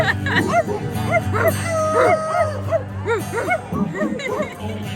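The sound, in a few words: people imitating dog barking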